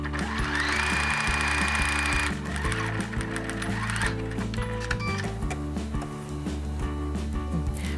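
A sewing machine stitches the seams of a fabric basket, a continuous rapid mechanical chatter with shifting speed, loud and close throughout with no talking.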